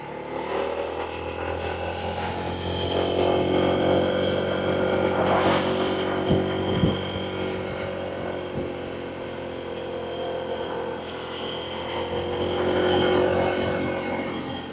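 A Honda ADV160 scooter engine hums steadily on a morning road ride, a close, continuous drone that swells as it picks up speed, with wind rush throughout.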